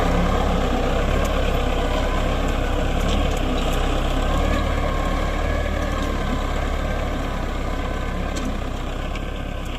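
An MTZ tractor ploughs a very wet field in autumn, its engine a loud, steady, continuous drone that runs close by throughout with no talk.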